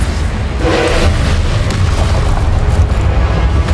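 Heavy booming blast from the Confringo fire spell in Hogwarts Legacy, a loud rumbling explosion swelling early and sustaining a roaring low-end wash throughout.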